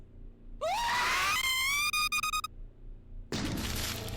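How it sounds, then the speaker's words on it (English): A rising, piercing scream from the video game Corrupted Dating Sim cuts in suddenly, wavers for about two seconds, then breaks off into a harsh burst of static-like noise. "That was a horrifying scream."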